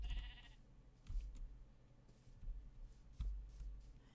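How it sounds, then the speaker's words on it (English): Sheep bleating in Minecraft, several short bleats spaced apart at moderate volume over quiet game ambience, with no talking. "there's more sheep up here"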